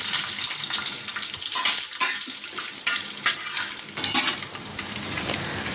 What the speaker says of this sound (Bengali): এবার দিয়ে দেবো কাজু বাদাম কিশমিশ ড্রাই ফ্রুটসগুলো।